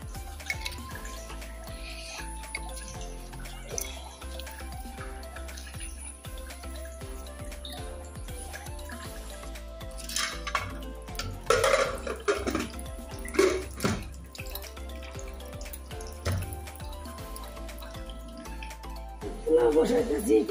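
Cashews and raisins being rinsed in water in a home kitchen while spices and oil are prepared, with soft splashing and dripping sounds and light clinks running under steady nearby talk.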